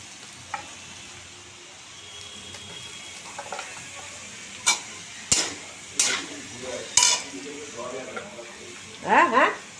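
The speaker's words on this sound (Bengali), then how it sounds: "আলুটা লাল করে ভাজি" Potatoes frying in a pan give a steady low sizzle, punctuated by several sharp scraping stirs with a utensil and a livelier burst of spatter near the end, with some talking in the background.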